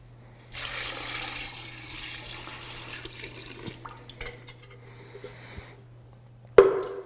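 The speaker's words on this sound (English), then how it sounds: "the last ingredient is enough water to cover" Water runs from a tap into a pot of beef stew with stew beef, salt and pepper, a steady pouring rush lasting several seconds with small clinks and knocks, then stopping, followed by a brief loud splash.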